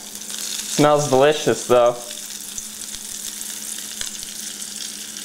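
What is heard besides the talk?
steak sizzling as it fries in a little oil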